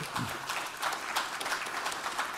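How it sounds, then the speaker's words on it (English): Audience applause at a panel discussion during a tech week event in Atlanta: a steady, moderately faint patter of many hands clapping, with a brief murmur of a voice near the start. "please let's give them a round of applause"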